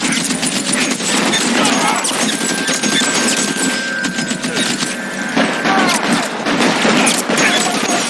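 A shootout in L.A. Noire brings dense, continuous gunfire that rattles loudly in rapid overlapping bursts with almost no let-up, and voices may be mixed in.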